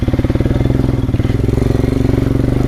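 An enduro off-road motorcycle engine labouring uphill on a dirt trail, close and loud, a steady throbbing chug with rapid regular firing pulses throughout.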